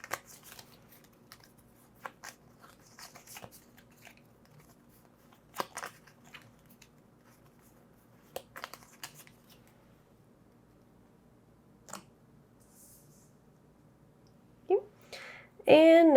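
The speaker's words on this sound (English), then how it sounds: "Shuffle this and all the other side effect cards back into the deck." Cards for the Final Girl board game are shuffled back into a deck in scattered soft riffles and snaps, separated by quiet gaps, before a voice speaks briefly at the end.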